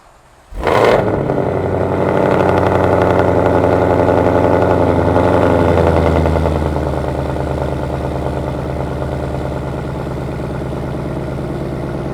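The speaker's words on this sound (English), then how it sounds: "let's go ahead and hear it start up" A 2020 Ford Shelby GT500 with a Lethal track exhaust cranks and fires with a sharp burst, settles into a loud high idle for several seconds, then drops to a lower, steady rumbling idle.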